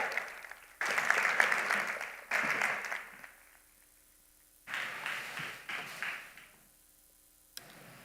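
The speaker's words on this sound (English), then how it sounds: "Welcome with a warm round of applause, the moderator, Dr. Etienne Krug, and your panelists." A conference audience claps to welcome a moderator and panelists on stage, with two separate bursts of applause, each swelling and fading, separated by a quiet gap and followed by a lone sharp tap.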